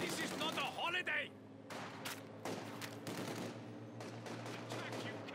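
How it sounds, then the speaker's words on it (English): Bursts of infantry gunfire from a Company of Heroes 2 battle crackle in rapid clusters, loud at first then scattered, with soldiers' voices calling out over the shooting. "Infantry shooting at us!"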